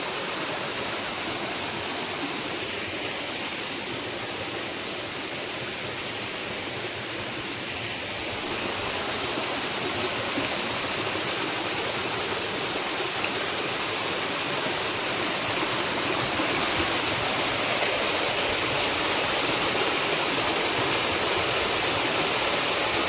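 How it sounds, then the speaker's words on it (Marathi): A waterfall in full flow during the monsoon, a steady, dense roar of rushing water that continues without a break and grows slightly louder partway through, with no voices. "आता पाऊस कमी झाला आहे तरी पण त्याला फुल पाणी आहे पाहू शकतो तुम्ही"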